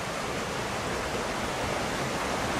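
Flowing water of Cottonwood Creek, a steady broadband rush filling the whole clip, close and continuous with no talk over it.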